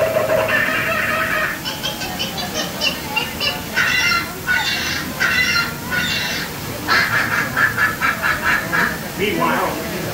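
A human voice imitates a frenzy of outraged birds in the treetops, squawking, honking and cackling in a rapid, loud string of close calls, some of them spoken-sounding.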